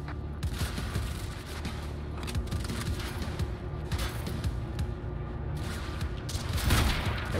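Sustained suppressing gunfire in the Quantum Break video game: a dense, continuous rattle of rapid shots with heavy low-end thumps, loud throughout and swelling near the end.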